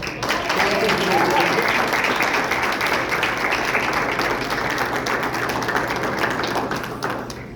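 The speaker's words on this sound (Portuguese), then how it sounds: "As palmas ao Senhor." A church congregation claps for the Lord in a sustained, dense wave of applause that holds steady for several seconds before tapering slightly at the end, with some voices underneath.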